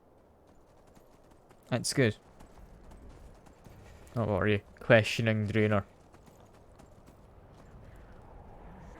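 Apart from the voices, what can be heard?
horse hooves clip-clopping in Skyrim video game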